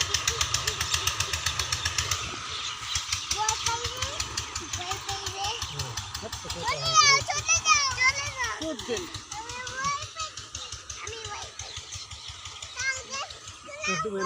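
A motorbike engine runs with a steady pulsing drone under children's chatter and adult voices outdoors, in a rural sweet potato harvesting setting, growing somewhat louder midway.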